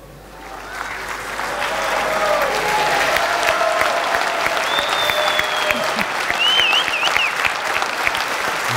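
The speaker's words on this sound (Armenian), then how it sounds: "Բարձր, բարձր ծափարություններ։" Loud audience applause in a television studio talk show, swelling within the first two seconds into a dense, sustained roar of clapping with a few whistles and cheers rising over it.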